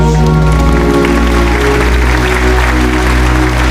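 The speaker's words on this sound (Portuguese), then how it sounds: "Pode aplaudir a Jesus, aplauda Jesus nessa noite." A church congregation applauds Jesus at a night service, dense steady clapping filling the space over sustained music or organ tones throughout.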